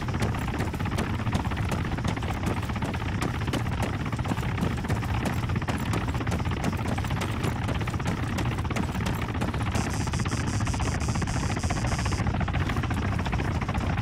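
A Hind attack helicopter patrolling in a military video game, its rotor thumping as a steady, loud, dense drone throughout, with a continuous engine roar under the blade pulses.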